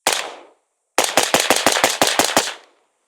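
An 11.5-inch gas-operated rifle fires a quick single shot, then a rapid string of about ten loud, evenly spaced shots, sharp and close, with no talking.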